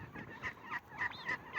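Turkeys on a poultry farm giving a run of short honking, gobbling calls, several overlapping notes in close succession, moderately loud and near, with no talk.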